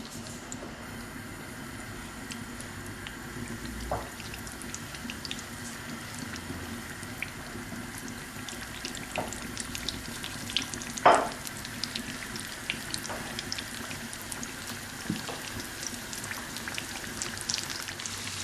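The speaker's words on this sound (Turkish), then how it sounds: "Yağımız çok kızmayacak. Sadece ısınacak böreklerimizi bırakıyoruz." Rice-filled börek pastries frying in oil that is warm but not very hot, giving a soft, steady sizzle with light scattered pops and an occasional louder crackle, without any voices.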